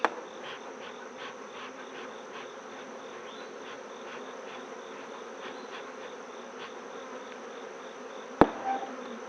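Honeybees in an opened hive give a dense, steady buzzing drone that goes on throughout, close by, with one sharp knock near the end and no talking.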